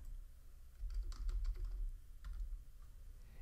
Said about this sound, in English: let's go ahead and type in ifconfig here.